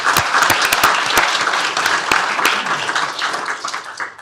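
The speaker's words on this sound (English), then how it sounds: "Let's give Mr. Coomer a round of applause." People at a county commissioners court meeting give a round of applause for a retiring court officer, starting with several loud close claps that blend into steady group clapping and gradually taper off.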